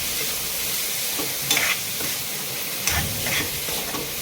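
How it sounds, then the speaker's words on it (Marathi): Grated paneer fries and is stirred in a pan with a constant hissing sizzle, broken by two louder scraping stirs near the start and middle, close and steady with no talking. "परत फ्राय करायचं, मिक्स करून घ्यायचं सगळं नीट."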